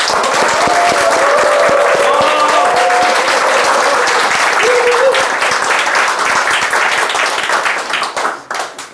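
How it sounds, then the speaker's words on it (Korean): A crowd claps loudly at a book-launch talk on real estate loans, sustained dense applause with a few faint tonal whistles or cheers mixed in, tapering off toward the end. "박수 한번 크게 한번 쳐주시죠"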